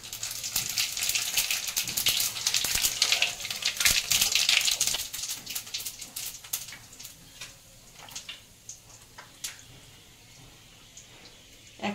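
Cumin seeds and whole spices with black pepper and cloves sizzle and crackle in hot oil in a home kitchen, a dense hiss with sharp pops that gradually thins out, no voices.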